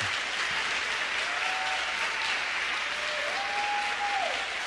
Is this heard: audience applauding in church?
yes